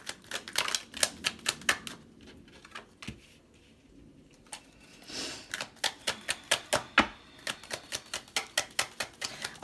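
Tarot cards handled and laid out during a reading, a close series of sharp crisp snaps and flicks in quick bursts, with a quieter pause midway before the rapid clicking resumes.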